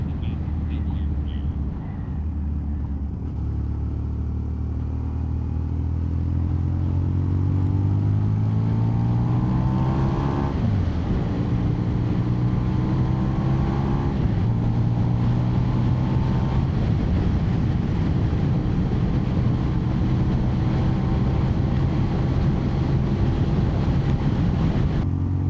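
A Yamaha XJ600 motorcycle on a countryside ride near Avebury, its engine droning steadily and rising in pitch through the gears under constant rushing wind noise.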